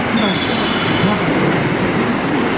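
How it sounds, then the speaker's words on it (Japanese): A JR West Kyoto Line train pulling into Suita Station, a steady rolling rumble of wheels and carriages close by, with a faint high whine running over the noise throughout. "電車は7両到着します"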